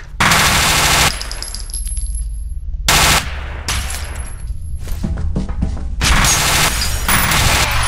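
Bursts of automatic gunfire from enemy soldiers in the 2005 shooter F.E.A.R., loud rapid volleys broken by short pauses, with the second and third bursts the longest, close and without talking.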